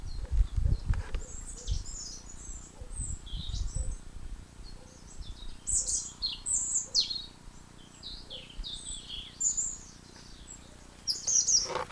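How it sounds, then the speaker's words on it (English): Several birds chirp and tweet in quick, scattered bursts in an ancient oak tree nearby, with soft low thumps and rustling underneath. "So the birds have come back."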